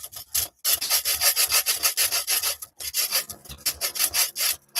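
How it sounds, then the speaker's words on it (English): A small hand hacksaw cutting by hand, heard as a steady back-and-forth rasp of rhythmic strokes, close and fairly loud, with a brief pause partway through. "So I just put up with this crappy little hacksaw for the 10 cuts I'll do while I live here."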